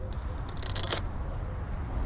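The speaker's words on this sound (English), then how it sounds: "I'm finding that scissors are actually working better on this stuff here" Scissors snip through old interior material inside a 1965 Chevrolet C10 pickup, a few quick crisp cuts clustered together, fairly close, over a steady low background hum.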